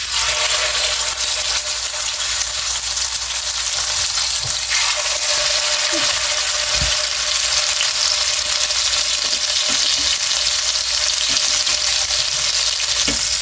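Blackened salmon fillets fry in a mix of butter and olive oil, giving a loud, steady, close sizzle that holds evenly throughout with faint occasional pops and no talking.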